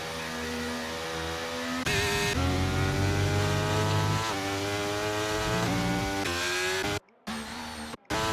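Race car engine in a video game racing lap at the Spanish GP, whining loudly and steadily with rising pitch sweeps through gear changes and brief cut-outs near the end, no talk.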